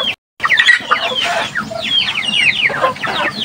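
A hen clucks repeatedly in a close, lively series of short calls, with other chickens faintly chattering around her in a backyard flock.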